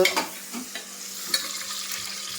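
Country chicken being stirred and sautéed in a pan, with soft crackling sizzle and a few scraping stirs close by, steady and fairly quiet throughout.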